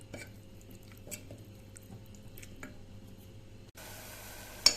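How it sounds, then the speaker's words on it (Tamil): Thick Kasi halwa with sugar and a pinch of turmeric being stirred in a pan: faint, wet squishing and soft scraping strokes at uneven intervals, quiet throughout, ending with a sharper clink. "இந்த நேரத்தில் அடி பிடிக்காமல் கிளறி விட்டு விட்டு வந்தீங்கன்னா காசி அல்வா ரெடி"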